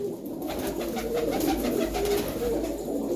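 Old purebred pigeons in a loft coo in steady, overlapping low murmurs, close and continuous, with no voices.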